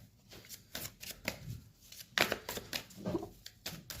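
Tarot cards are shuffled and drawn by hand, giving close, crisp riffles and soft slapping flicks in quick irregular bursts, with no one talking.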